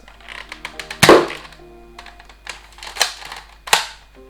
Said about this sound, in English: see if the cylinder moves on to the next index